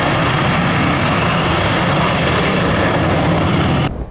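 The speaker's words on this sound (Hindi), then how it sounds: "चीन के इन दोनों फाइटर जेट्स ने लाइन ऑफ कंट्रोल पर उड़ान भरी है" Chinese J-20 fighter jets flying near the Line of Control, a loud, steady roar of jet engines that fills the whole clip before cutting off sharply near the end.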